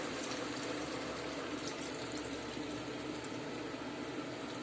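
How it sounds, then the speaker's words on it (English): Water is poured into a pot holding pork, chorizo and chickpeas for a stew, a steady soft gushing rush that continues evenly, fairly quiet and with no talking. "I'll add in the water."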